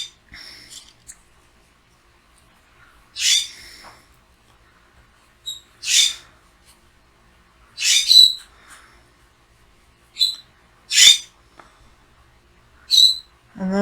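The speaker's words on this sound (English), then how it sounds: "And those are my birds. I have birds everywhere." Pet birds kept indoors give short, sharp chirps and squeaky calls in separate bursts every couple of seconds, with quiet gaps between them.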